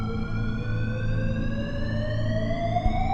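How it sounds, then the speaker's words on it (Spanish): A steady wailing alarm with a slowly rising pitch sounds for a horror story, loud and alone over a low hum. "Íbamos a empezar a buscar a nuestros alrededores cuando sonó una de las alarmas."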